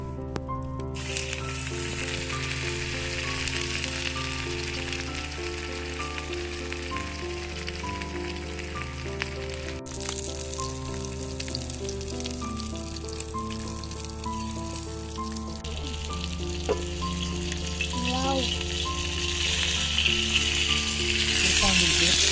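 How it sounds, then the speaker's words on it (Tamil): Steady, loud sizzling of marinated fish frying in hot oil on a tawa, village style, continuous crackle and hiss throughout with occasional stirring sounds and faint voices. "மீனை பொரிக்க ஆரம்பிக்கலாம்."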